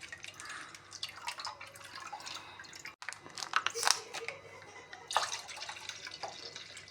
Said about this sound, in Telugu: ఫుల్ ఫ్యాట్ మిల్క్ అయితే యాడ్ చేసుకుంటున్నానండి కోవా కోసం